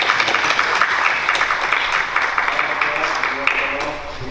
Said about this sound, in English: One more round of applause for our fantastic students of the month.